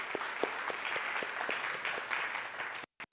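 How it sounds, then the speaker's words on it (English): Audience applause at a spiritual service on Kauai, a steady wash of many hands clapping at moderate distance, continuous for a few seconds before cutting out abruptly near the end. "Give yourselves a round of applause here."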